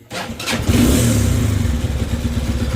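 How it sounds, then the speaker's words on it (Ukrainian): A Zongshen ZS200GS motorcycle's 200cc engine cranks, catches within half a second and settles into a steady, thumping idle, close and fairly loud with no other sound. "Запустився мопед добре. Бухкає як стандартна нижньовальна двохсотка."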